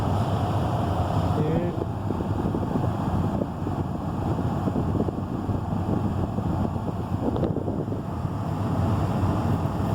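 An HVAC air-conditioning unit runs on its high setting, giving a continuous, loud rushing airflow noise that stays even throughout with no break.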